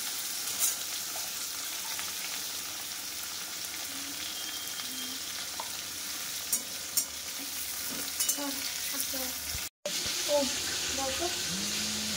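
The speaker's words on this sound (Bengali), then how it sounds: "আলু আগে কালো জিরা দিল আলু দিল আলুটা আগে ভাজা হবে" Potatoes frying with black cumin in a pan make a steady low sizzle under light stirring and scraping, with occasional clinks of a utensil and a brief dropout near the end; no one speaks.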